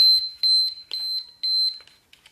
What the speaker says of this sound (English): the alarm is just about to go off